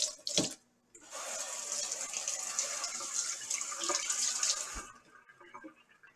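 A kitchen tap gushes water for several seconds while something is rinsed under it, preceded by a brief clatter and followed by the flow cutting off into quiet.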